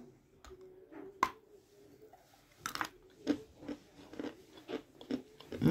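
Close biting and crunching of chalk, a series of sharp crisp snaps and crunches at irregular intervals, with soft chewing between bites and no talk.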